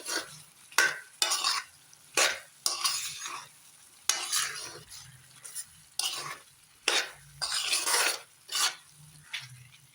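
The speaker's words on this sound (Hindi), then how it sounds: "अब इसको अच्छी तरह मिक्स करेंगे।" Dry chicken chilli is stirred in a pan with green chillies, spices and black pepper, with repeated scraping and clattering strokes of a spoon against metal over a soft sizzle, close up, no talking.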